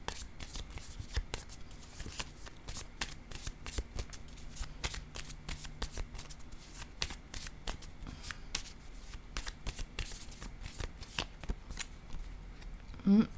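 A deck of cards is shuffled and cards are placed down one by one on a table, giving repeated soft riffling and crisp slapping taps, while a person speaks quietly nearby.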